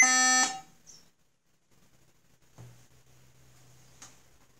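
A Dell laptop ends its diagnostic test with a sharp, loud tonal beep at the very start, followed by quiet ticks and a low hum in near silence.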